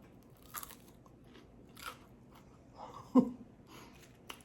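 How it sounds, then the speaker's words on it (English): Quiet crunching bites of crisp food, a few sharp crackly bursts close to the mic with soft breathing between. "I want you to hear the crunch."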